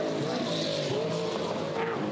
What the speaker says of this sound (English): Oh, look at the way he's sliding the car around.